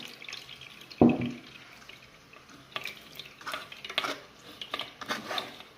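Water is poured into a container to rinse out the last of the orange juice, opening with a sharp splash, then continuing as quieter sloshing, dripping and stirring, with no voices.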